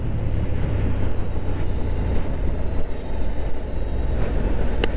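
Steady broadband roar of a KTM 1290 Super Duke R motorcycle engine under way on a stock exhaust, continuous and fairly loud, with wind rush and no talk.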